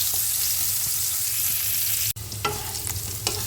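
Lightly steamed potatoes fry in oil in a pan, a dense, close sizzle with low rumble and occasional scraping stirs, briefly cut by a sharp clack partway through.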